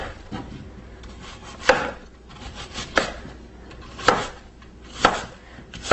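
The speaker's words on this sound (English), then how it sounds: "and then I just chop it up into" A knife chops Fuji apples into small pieces on a board, five crisp, evenly spaced strikes with quieter scraping between them, close and clear with no voices.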